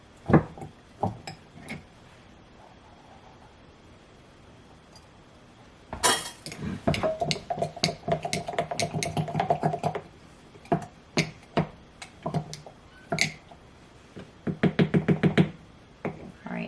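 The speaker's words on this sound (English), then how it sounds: "Getting everything thoroughly mixed together, making sure I'm scraping the bottom." Sourdough starter being mixed and scraped in a bowl, heard as irregular knocks and clinks of a utensil against the bowl, with bursts of busier scraping and stirring in the middle and near the end.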